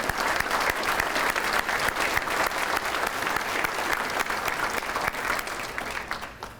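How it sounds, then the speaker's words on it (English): Warm, sustained applause from a dinner audience honoring Philanthropy Award recipients at a President's Dinner, dense steady clapping across the room that tapers off slightly at the end. "please join me in giving our Philanthropy Award recipients one more round of applause this evening"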